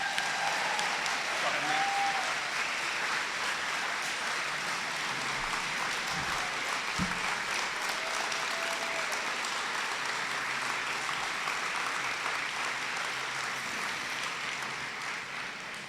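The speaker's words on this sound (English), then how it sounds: "So can everybody give a rousing applause for Mrs. Walsh?" Sustained audience applause fills a public talk on faith and the public square, a steady dense roar of many hands that holds evenly throughout and only eases slightly at the very end.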